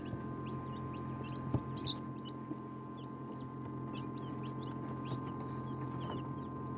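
Newly hatching chicks give thin, high peeps and cheeps, scattered and intermittent, over a steady low incubator hum; fairly quiet and close, with no talking.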